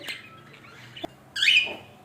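A pet bird lets out a single short, bright chirp close by, with faint scratchy sounds around it in an otherwise quiet room.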